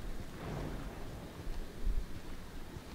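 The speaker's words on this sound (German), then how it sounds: "Oh, ich habe Regen auf dem Visier" Rain and rumbling thunder in the sci-fi shooter game Aliens: Colonial Marines, a steady dull wash of rainfall with low thunder swelling near the end, no voices.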